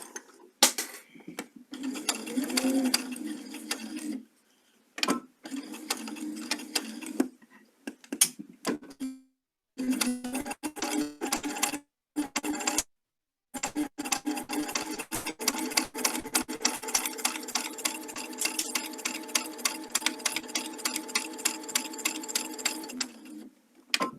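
A sewing machine stitches small bias-cut fabric pieces onto a leader strip, running in repeated bursts of fast mechanical whirring and clatter separated by short pauses, close and fairly quiet.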